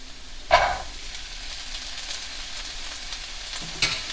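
Chickpeas tossed into a pan of frying onion and garlic give a sharp sizzling burst, then a steady close hiss of frying, with a second brief crackle near the end.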